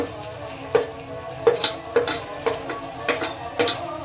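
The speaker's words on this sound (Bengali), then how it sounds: "পেঁয়াজটা একটু ভাজা হোক।" Onion frying in refined oil for a momo filling, a soft steady sizzle under a regular series of sharp stirring scrapes and taps from a utensil against the pan, roughly every half second.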